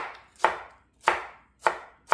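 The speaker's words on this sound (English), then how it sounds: "Next we're going to have 1/4 of a small red onion. Slice those up." Four crisp knife strokes slice through red onion onto a cutting board at an even pace, close and clear with nothing else heard.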